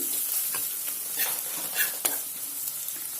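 Dried fenugreek leaves (kasuri methi) and onions fry in a pan for mutton paya, a steady bright sizzle broken by a few stirring scrapes, close and alone without voices.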